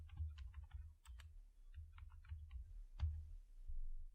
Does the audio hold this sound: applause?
no